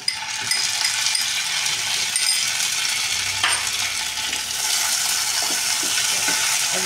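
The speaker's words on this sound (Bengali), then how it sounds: "এবার আমরা এর মধ্যে দিয়ে দেবো আদা, রসুন, পেঁয়াজ আর কাজু বাটাটা" Ginger, garlic, onion and cashew paste lands in a hot frying pan for spicy aloo dum, a steady bright sizzle running throughout, with a few soft scraping stirs near the end.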